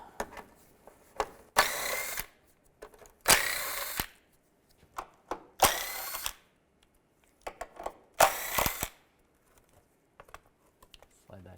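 A 13mm socket driven by a power tool backs bolts off a cover on a 2002-2009 Chevy Trailblazer during front CV axle work: four short, loud whirring bursts separated by pauses, with faint clicks between.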